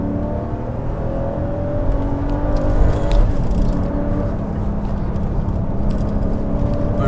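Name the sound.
Mercedes C43 AMG car engine revving while driving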